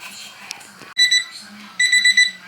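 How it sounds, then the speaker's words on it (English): A kitchen timer beeps during pressure canning of boiling green beans, two bursts of rapid high electronic beeping, with faint talk and kitchen noise around it. "Okay, our timer is going off, so I'm going to turn the burner off."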